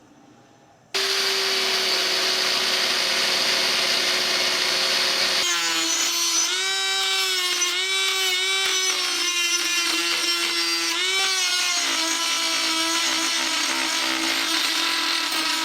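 A power-driven wire brush wheel spins up loudly and grinds against rusty Datsun 240Z hand brake parts, a continuous whine with shifting pitch as pressure on the workpiece varies, close and alone.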